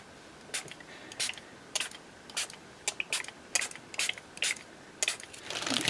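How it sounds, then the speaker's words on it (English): A spray bottle of mica and water, its trigger pumped repeatedly in short, sharp bursts, about a dozen hisses at an uneven pace, close by with no voices. "I'm just going to spray a little bit."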